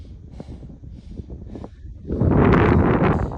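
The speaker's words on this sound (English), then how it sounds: "I feel like it is windy up here" Wind buffets the microphone in gusts high up on the Pacific Crest Trail, light and patchy at first, then a strong sustained rush takes over near the end.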